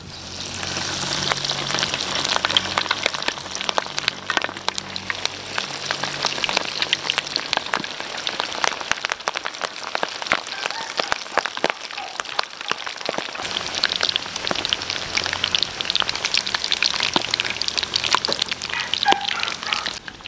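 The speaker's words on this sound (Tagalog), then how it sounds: "Di-deep fry na natin." Beef shank bulalo pieces deep frying in hot cooking oil, a steady dense crackle and sizzle running continuously throughout, close and fairly loud with no talking.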